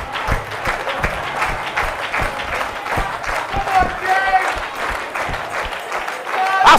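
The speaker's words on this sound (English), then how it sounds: "You just went to church, everybody start clapping." A church congregation claps in a fast, steady rhythm throughout, the sharp hand claps sitting under a preacher's loud, energetic voice.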